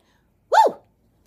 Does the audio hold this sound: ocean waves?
no